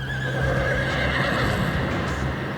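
A herd of Mongolian wild horses gives a loud, sustained neigh up close, the drawn-out whinny ringing over a steady rumble of movement, with no talking.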